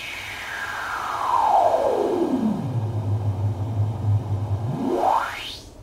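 Generated noise swept through a DJ mixer filter, a hissing whoosh gliding down into a low rumbling band, holding there, then sweeping sharply back up, loud and alone.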